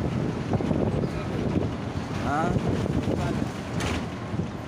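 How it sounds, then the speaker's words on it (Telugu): Steady cool wind blowing during a midday road trip from Madurai to Kodaikanal, a broad rushing roar with buffeting across the microphone throughout. "మిట్ట మధ్యాహ్నం చల్ల గాలి."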